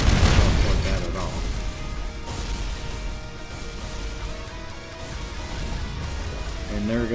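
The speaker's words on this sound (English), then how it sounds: "And there goes the artillery again" Artillery tanks firing in the Evolution RTS real-time strategy game, heavy booms and blasts set against a busy battle bed, with a caster talking over them throughout.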